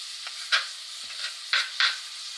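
A pot of beef barley soup simmers with a soft steady bubbling hiss, punctuated by several short scraping stirs at uneven intervals, close and moderately loud with no talking.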